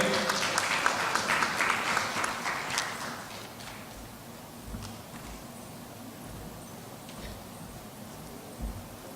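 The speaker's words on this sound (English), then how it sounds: "A huge round of applause for our program chair here." Applause from the audience at a healthcare conference on public-private partnership models, a burst of clapping that fades over the first few seconds and leaves faint scattered taps and room noise.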